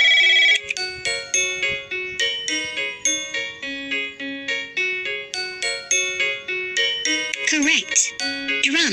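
A bright electronic phone ringtone from a kids' sound-guessing computer game plays as a fast repeating melodic chime, loud and clear, followed by a short warbling tone at the end.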